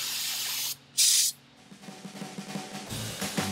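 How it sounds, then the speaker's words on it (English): A loud aerosol spray can hisses in short bursts while working on a Volvo 245's rear brakes, one sharp blast standing out, followed by softer rustling and handling noises nearby. "You should just have to break them off and spray the whole can."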